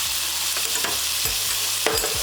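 Tofu, bean sprouts and chives stir-fried for pork tongue pad thai, with a steady loud sizzle and several sharp scraping strokes of a spatula against the pan, no voices.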